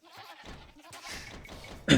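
A sheep bleats a few times in a medieval real-time strategy game, faint and short, with a brief loud burst of game sound at the end.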